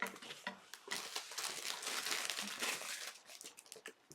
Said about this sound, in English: Sorry for the crinkly noises.